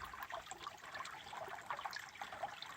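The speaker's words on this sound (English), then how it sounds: "the sluice is running into water that's sitting up around halfway mark" Water runs from a sluice box into standing water, a steady, quiet trickling and splashing flow with continuous bubbling detail and no voices.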